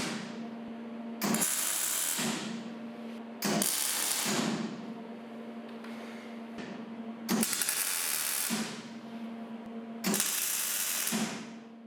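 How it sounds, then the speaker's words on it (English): Tack welding joins the steel hinge components of a saw cleaver replica in four short, crackling bursts of about a second each, separated by a steady electrical hum from the welder. "it was now time to tack weld the hinge components together"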